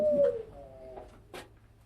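A Modena pigeon gives a soft, close coo at the start, followed by a couple of quieter murmuring notes in an otherwise calm setting with no talking.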